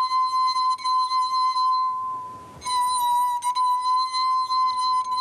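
A wine glass tuned with water rings in a long, pure sustained tone with bright overtones, briefly fading in the middle before a clear strike brings it back loud and steady.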